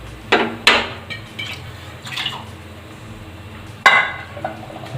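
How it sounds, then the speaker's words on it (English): Water poured into a metal pot for jeera rice, with sharp clanks of the vessel, a splashing pour and light drips, close by with a few pauses. "As per the requirement, I will put water"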